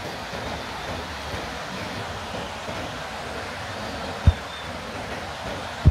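Continuous rushing roar of a waterfall in the Parvati Valley, Himachal Pradesh, steady and broad, with two brief dull thumps near the end.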